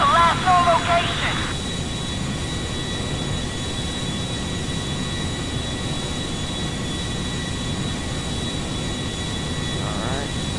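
A large airplane engine in a video game gives a steady, loud, broadband roaring drone throughout, with a voice briefly heard at the start.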